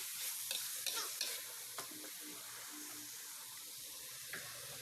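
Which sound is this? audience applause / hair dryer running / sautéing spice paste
sautéing spice paste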